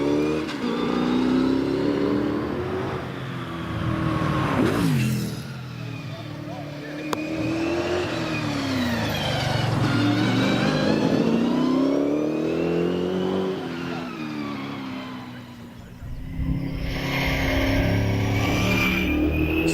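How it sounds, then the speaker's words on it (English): A big V8 racing car accelerates hard up the hillclimb course at Prescott during a British Championship event, its growling engine rising and falling in pitch through gear changes, loud and close, with a commentator talking over it. "here comes that big growling V8"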